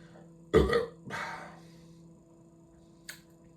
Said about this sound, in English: That felt like a satisfying burp then.